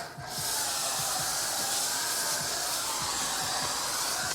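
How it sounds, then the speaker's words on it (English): Pressure washer spraying Pro Foam Wash onto the wheels and wheel wells of a Porsche, a loud steady hiss of foam spray close by, continuous for several seconds. "And of course, we like to do our little soak with Pro Foam Wash."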